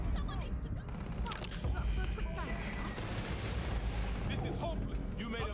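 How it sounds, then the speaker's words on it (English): Gunfire in the sci-fi game Starfield, several sharp shots and booms scattered through dense combat noise while people talk over it. "It was a warning shot."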